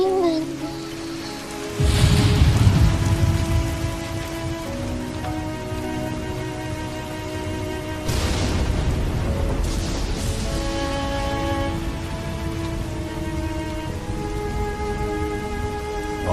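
Steady heavy rain pours throughout a thunderstorm with strong lightning, with a deep rumble of thunder breaking in early and another swell midway.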